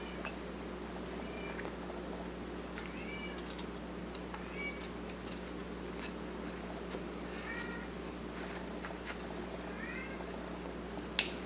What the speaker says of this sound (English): Oh, I'm gonna get rid of that cat one of these days.